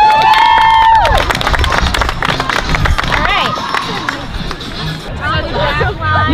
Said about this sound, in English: The team is practicing their team cheer.